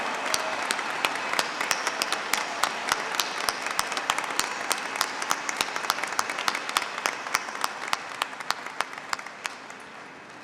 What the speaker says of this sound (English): Let's give one more round of applause for Dr.